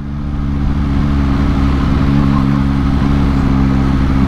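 A 2022 Yamaha MT-09 motorcycle engine revs hard and steadily up close, a loud, continuous throaty drone with strong low harmonics that holds for several seconds without any talk.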